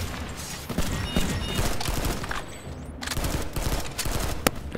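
A new battle rifle in a video game firing on automatic, rapid continuous bursts of gunfire with a brief pause midway before it resumes, loud and close, ending with a single sharp crack.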